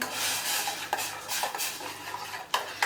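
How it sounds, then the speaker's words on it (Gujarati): A spoon stirs gathiya kadhi in a metal pot, scraping and swishing in repeated strokes with a few sharper clinks against the pot's side, close and clear with no talking. "તો હવે આપણે ફરી હલાવીશું"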